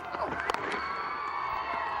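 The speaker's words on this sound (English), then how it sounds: "The team is out in the balcony, applauding that effort." A cricket crowd at a Test match against Pakistan cheers and applauds, a dense roar of many voices with whistles and shouts lasting the whole brief moment.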